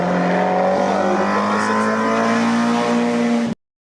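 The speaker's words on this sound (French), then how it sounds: "la Ford MK1 de Jean-Marc Charvin." A Ford MK1 1300 race car engine roars loudly and steadily at high pitch at a hill climb, sustained close by, then cuts off abruptly.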